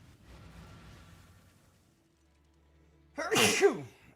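After a couple of quiet seconds, a single loud, explosive sneeze bursts out close to the microphone.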